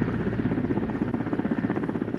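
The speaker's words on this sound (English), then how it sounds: "The helicopter comes to hover over the roof." Indian Air Force helicopter hovering over a rooftop during a firepower demonstration, its rotor beating in a steady loud throbbing pulse with a dense engine rumble, close and continuous.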